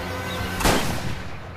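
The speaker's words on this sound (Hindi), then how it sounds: "अब वो उसके डैड पर गोली चला देती है" A single sharp gunshot in a movie scene cracks out over a dense, loud score, a brief broadband burst with a short decaying tail.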